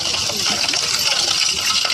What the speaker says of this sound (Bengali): এবার আমি এতে দিয়ে দেবো জল, ঠান্ডা জল